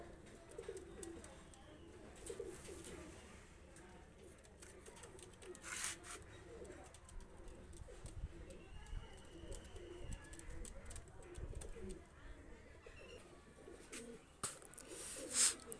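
Cooing from breeding pigeons offered for sale, low and steady in the background across the whole stretch, with a few brief bird chirps and faint rustling noises mixed in.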